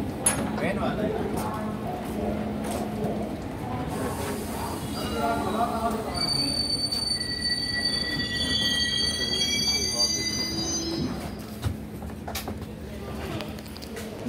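Wheels of the Indore–Jabalpur overnight express squeal against the rails with sustained high-pitched shrieks in the middle stretch, over a steady rumble of rolling rail cars as the train nears Jabalpur station.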